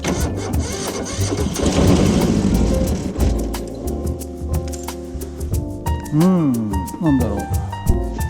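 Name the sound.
excavator engine failing to start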